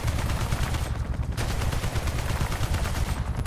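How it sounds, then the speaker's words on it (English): Continuous, dense automatic gunfire in Battlefield Bad Company 2 Vietnam on PC: loud, rapid rattling shots that carry on without pause for the whole stretch. "We're taking fire here!"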